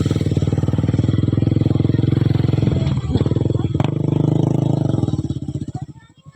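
A motorcycle engine idles loudly and close by in a steady rumbling putter, with a couple of clanks midway, before it fades out near the end.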